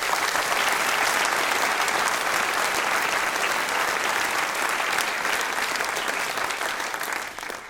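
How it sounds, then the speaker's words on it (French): A large crowd at a New Year's wishes ceremony in Mennecy applauds the town's jazz band in a dense, sustained wash of clapping that stays loud throughout and thins slightly toward the end. "J'aimerais aussi que vous applaudissiez le jazz band de Mency"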